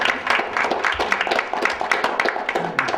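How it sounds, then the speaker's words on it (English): A crowd at a school board meeting claps together in a steady, dense patter of applause that fills the whole stretch, close and moderately loud, with no one speaking. "A round of applause. I think we applaud that."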